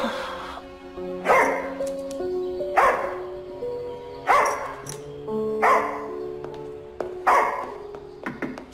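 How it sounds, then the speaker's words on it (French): A dog barks repeatedly indoors, a series of loud close barks roughly every second and a half, with yips and whimpers between them and no talking. "Il aboie beaucoup, mais il est pas méchant."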